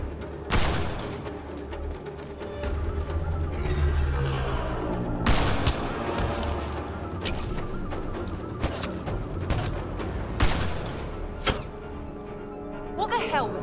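Gunfire in the Mass Effect Andromeda video game on Kadara: repeated sharp shots and bursts over roughly fourteen seconds, loud and close, with several heavier booming reports, mixed with game music and shouted voices.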